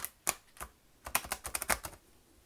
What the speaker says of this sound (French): je vais mélanger mes cartes